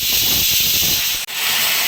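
A pressure cooker cooking moong lets off steam in a loud, continuous hiss, with a brief break near the end before the hiss resumes.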